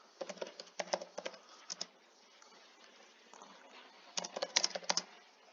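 Typing on a computer keyboard in two quick bursts of clicking keys with a pause between them, quiet and close, with no voices.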